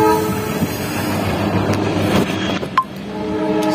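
A train rumbles past close by near a railway station, a steady heavy roll with a brief horn blast near the end, and no voices over it.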